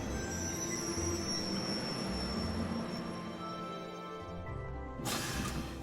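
A moving train in the Trails of Cold Steel video game gives a steady rolling rumble with faint high wheel squeals and a thin whine, then a sudden shift in the final second.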